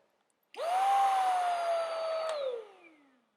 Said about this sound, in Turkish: Eco modda sesi bu şekilde.